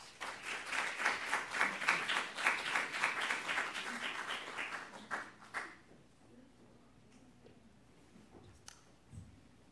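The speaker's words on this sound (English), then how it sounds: "So please give a very warm applause to our panelists" An audience at a media and technology panel event claps for the panelists, a loud, dense round of applause that fades out after about six seconds into quiet room sound with a few stray claps.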